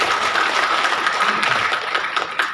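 Audience clapping at a business-opportunity seminar, a dense steady patter of many hands held at an even level for the full stretch with no voices over it.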